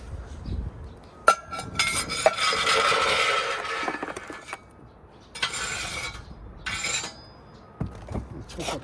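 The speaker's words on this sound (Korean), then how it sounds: "이렇게 석쇠를 덜어내고 한 번만 이렇게 긁어내면 딱 됩니다." A grill grate is lifted out of a wood-fired oven and the interior is scraped clean, producing metallic clanks followed by several bursts of harsh scraping and rasping, close and fairly loud, separated by short pauses.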